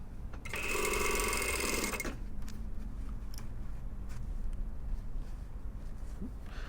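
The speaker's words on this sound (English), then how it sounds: "this is really just a stay stitch, I'm actually doing the stitch inside the seam allowance" A sewing machine runs a brief stay stitch inside the seam allowance of a jacket collar, whirring steadily for about a second and a half before stopping, followed by quiet handling noises.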